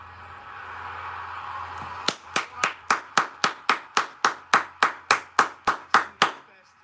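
Stadium crowd at a Manchester United versus Tottenham football match claps in a steady, evenly spaced rhythm, about fifteen sharp unified claps over a low crowd murmur.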